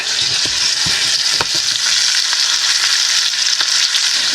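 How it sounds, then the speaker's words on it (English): A ribeye steak cooking in a pan inside an RV trailer, a loud, close, continuous sizzle and crackle with a few sharper pops and utensil scrapes, no voices. "we are sitting in the trailer cooking a steak"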